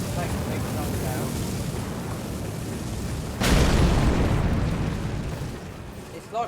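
A spell explosion goes off in Elden Ring, played as a Godskin Celebrant class: a sudden loud broadband burst that swells and lingers as a roaring rumble for a few seconds over a dense, steady game ambience.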